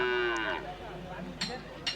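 A cow moos once at a busy livestock market, a drawn-out low call fading out, followed by faint clatter and crowd noise.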